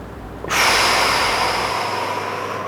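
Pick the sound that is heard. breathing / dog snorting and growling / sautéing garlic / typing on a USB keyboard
breathing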